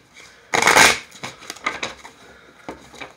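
Tarot cards riffle and slap together in a loud burst, followed by several softer shuffling rustles and taps, with no voice over them.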